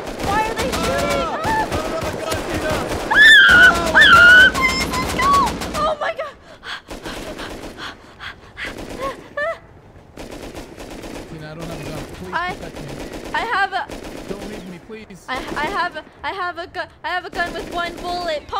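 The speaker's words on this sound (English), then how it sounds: "Why are they shooting?" Rapid gunfire from a video game crackles through the first six seconds under anxious talk, then sparser shots and game sounds continue beneath ongoing speech.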